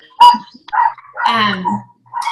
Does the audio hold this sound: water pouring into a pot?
no